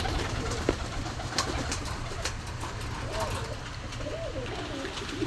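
Pigeons coo softly at a pigeon shop selling Rampuri and other breeds, with low murmuring calls under steady background noise and occasional talk.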